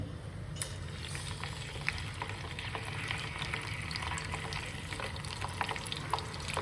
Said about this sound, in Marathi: हा असा आवाज आला की समजायचं आपलं तूप व्यवस्थित झालेलं आहे